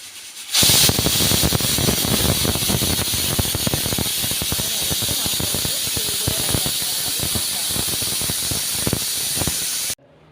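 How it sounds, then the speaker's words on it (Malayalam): A pressure cooker holding chicken parts lets off a loud, steady jet of steam that bursts in suddenly, hisses without pause for about nine seconds, then cuts off abruptly. "അത് വിസിലടിക്കുകയാണ്. ആദ്യത്തെ വിസിൽ"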